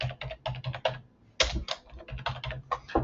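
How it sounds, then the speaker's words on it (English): Keys tapped on a computer keyboard while entering a phone number, close and crisp, in two quick bursts of clicks separated by a brief pause. "Or also you can manually type in the number here"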